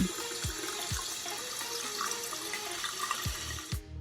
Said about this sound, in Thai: เติมน้ำไปอีกนิดหน่อย